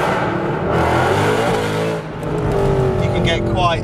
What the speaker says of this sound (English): the noise that comes from this car. It's like pure V8 thunder, the definition of V8 power.